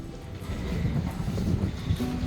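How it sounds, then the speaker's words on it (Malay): Strong seaside wind buffets the microphone at a wooden kelong fishing platform on Pantai Siring in Melaka, a steady, loud, low rumble with gusty swells throughout and no voices. "Angin kuat ni best ni."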